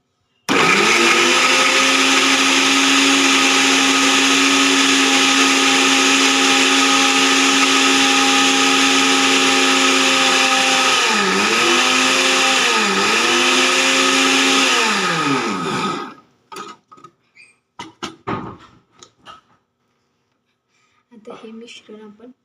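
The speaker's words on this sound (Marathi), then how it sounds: "बारीक करून घेते मिक्सरला." A kitchen mixer grinder grinds washed beetroot for paratha dough, its motor a loud, steady whine for about fifteen seconds. The pitch dips twice, then the motor winds down and stops, followed by scattered rattles and taps of the jar.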